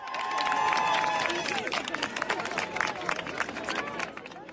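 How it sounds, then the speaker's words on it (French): A crowd of about a hundred high school students and parents outside a police station in Nanterre, France, produces a dense wash of clapping and cheering with some voices mixed in, loud throughout and easing off at the end. "un adolescent sort du commissariat de Nanterre ce matin sous les applaudissements d'une petite centaine d'autres lycéens et parents d'élèves venus en soutien"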